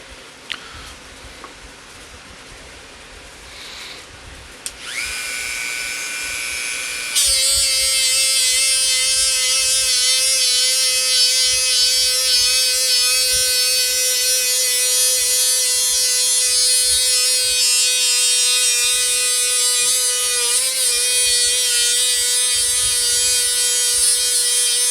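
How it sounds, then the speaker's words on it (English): Power sander working over a cypress stump, a steady high-pitched motor whine that starts, changes pitch, then runs continuously and loud without talk. "First, we're going to sand off a section real quick here."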